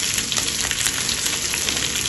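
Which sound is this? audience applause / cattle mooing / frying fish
frying fish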